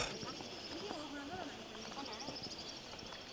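Far-off horses or cows in the countryside of Wulong, Chongqing give faint hoof clip-clops, soft and scattered under nearby talking.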